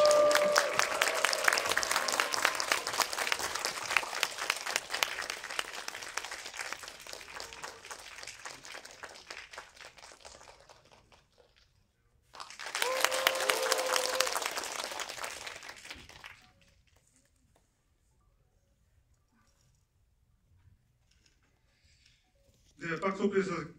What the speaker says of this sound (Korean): 계속 박수 쳐주십시오.